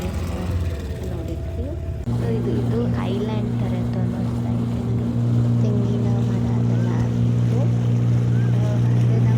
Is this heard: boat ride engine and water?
yes